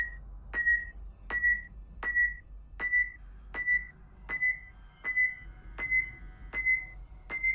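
Motion tracker beeping from an Alien RPG sound effect: a steady, evenly spaced series of about ten tonal pings with a click at each onset, clear and moderately loud over low hum.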